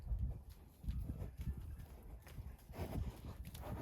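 Horse hooves clopping on the ground in an uneven walking rhythm, fairly close, with soft rustling and faint background noise.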